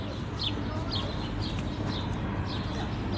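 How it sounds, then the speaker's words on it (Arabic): Sparrows and other small birds chirp in repeated short bursts outdoors in Stockholm, set against a steady, loud wash of city background noise. "شوفوا لي صوت الطيور هون،"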